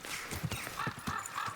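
A horse walks slowly through a town in Kingdom Come: Deliverance II, its hooves clopping in a soft, even rhythm at close range and low volume, with no talking.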